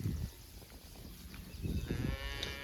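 Low cattle moos rumble in short bursts at a distance on spring pasture, with outdoor ambience and faint birdsong above.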